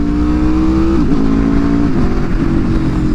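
Loud, close engine of an Aprilia RSV4 V4 sport motorcycle with a Spark titanium full exhaust, a sustained high rev that drops and picks up again in quick blips.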